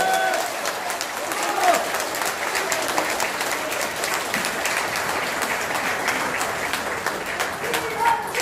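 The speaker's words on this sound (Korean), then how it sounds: "멋진 강연을 해주신 이현주 의원님께 다시 한번 큰 박수를 부탁드립니다" An audience at a political lecture by a national assembly member gives sustained, dense applause. The clapping is steady and fairly loud throughout, with crowd noise and some voices mixed in.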